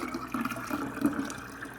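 Water kefir being strained through a non-metal strainer into apple juice, a steady close pouring and trickling of liquid running throughout with small splashy surges.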